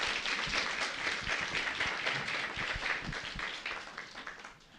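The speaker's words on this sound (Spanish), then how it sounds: "Una vez más vamos a dar por favor fuertes aplausos." Crowd applause fills a church service, steady dense clapping from a congregation after a worship music group, fairly loud and sustained, tapering slightly toward the end with no talking over it.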